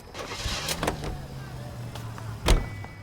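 A vintage car in the 1940s Los Angeles crime game L.A. Noire idles with a low, steady engine drone, with a door thud near the end and soft mechanical clicks and rustles over it.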